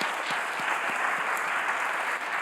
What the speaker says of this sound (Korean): 우리 오실 때 따뜻하게 환영의 박수 하겠습니다.